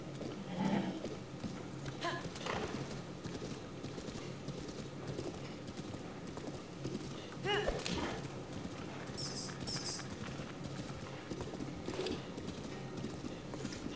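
Horse hooves clip-clop in the video game Zelda Breath of the Wild, a quiet, steady patter of footfalls under light game ambience, with no talking.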